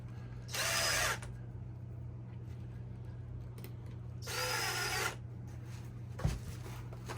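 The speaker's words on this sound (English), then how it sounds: "Then I can put these screws in partially." A cordless power drill drives screws into cypress wood for a scout bird feeder, two separate whirring bursts of about half a second and a second, with a steady hum between them and a small knock afterward.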